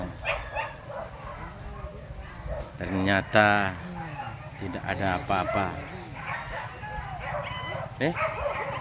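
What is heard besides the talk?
dogs barking during a hunt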